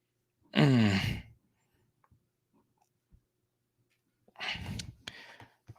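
A long breathy voiced exhale, like a yawn, followed after a quiet pause by a second softer breathy vocal sound.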